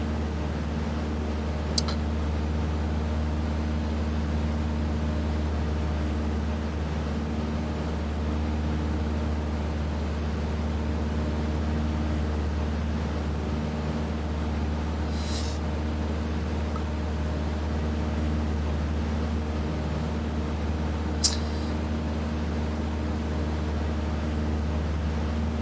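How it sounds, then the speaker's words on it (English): Single-engine SA Bulldog propeller aircraft in Microsoft Flight Simulator with the mixture set to full, a steady low engine drone that holds constant throughout, with a couple of faint brief clicks and no talk. "So the mixture is now at full. And that's why you hear the engine pick up a little bit."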